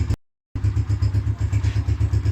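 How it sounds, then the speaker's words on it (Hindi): A Pakistani United 125 motorcycle engine idles on a cold morning right after a first-kick start with no choke, a steady close, even low thumping rhythm after a brief dropout at the start. "बाइक जो है अपने रिदम में स्टार्ट है और चल रही है।"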